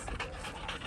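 A pit bull panting rapidly and close by, quick breathy huffs with a faint whimper near the end.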